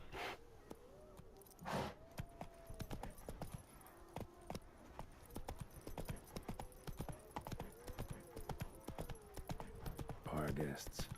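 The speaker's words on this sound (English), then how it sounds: "Come on, Roach. Mount up." Horse hooves clip-clopping in a quick galloping rhythm in The Witcher 3 video game, moderately loud, with a voice talking over it.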